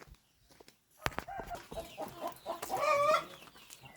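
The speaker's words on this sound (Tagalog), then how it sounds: "Yan ang ating mga manok." Farm chickens clucking and squawking close by, a cluster of short irregular calls building into a louder burst, with no talk over them.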